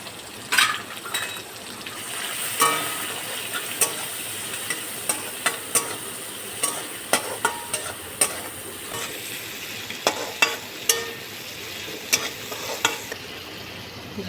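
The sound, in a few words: prawns frying and being stirred in a pan with greens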